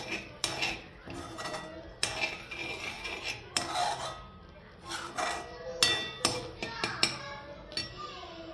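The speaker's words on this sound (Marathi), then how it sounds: "आपण एकदा हलवून देऊ चमच्याने।" A metal spoon stirring homemade ghee in a pan over a low flame, irregular clinks and scrapes against the pan at close range, sharp taps scattered across quieter gaps.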